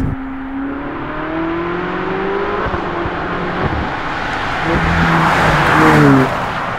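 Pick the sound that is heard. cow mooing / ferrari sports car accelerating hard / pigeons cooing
ferrari sports car accelerating hard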